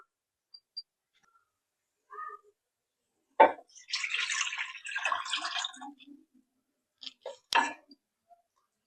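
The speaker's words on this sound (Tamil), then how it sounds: "இப்போ சூப்பு தண்ணி ஆட் பண்ணி ஆச்சு." Mutton soup stock is poured into a simmering dhaba-style mutton gravy in a pan: a sharp knock, then about two seconds of close, hissing, splashing pour, followed by a few light clinks.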